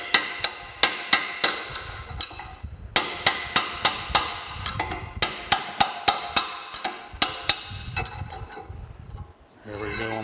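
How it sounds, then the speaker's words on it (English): Sharp, repeated hammer blows drive bronze bushings out of a White Mountain ice cream churn during disassembly, struck in quick bursts of metallic ringing impacts with short pauses between groups, close and loud. "I'm gonna go ahead and drive these bronze bushings on out."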